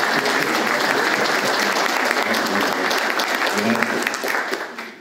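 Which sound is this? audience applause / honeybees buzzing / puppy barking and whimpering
audience applause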